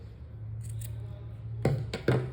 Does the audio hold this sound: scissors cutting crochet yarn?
yes